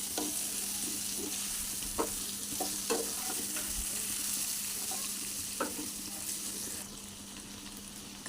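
Mutton curry with whole green chilies stirred in a hot pan, a steady close sizzle broken by several soft spoon scrapes and knocks, no voices.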